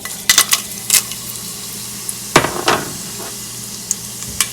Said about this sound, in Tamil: எண்ணெய் சூடாயின பிறகு பட்டை வகையில் நாங்கள் போடுவோம்